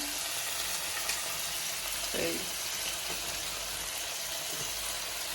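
Red and green chili sauces sizzle in a hot pan while paneer chilli cooks, a steady, faint frying hiss with a few stirring clinks throughout.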